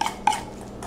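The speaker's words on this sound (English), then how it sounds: "Apologize for the spoon scraping on the bowl." A spoon scrapes against a mixing bowl of brown sugar, vodka and butter topping in two quick, close, moderately loud strokes with a short gap between them, and no one speaks.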